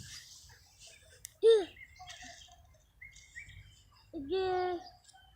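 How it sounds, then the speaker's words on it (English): Birds call outdoors among trees, with two louder chirps and softer scattered twitters over a faint low rumble. "Birds going ham out here in Paisley,"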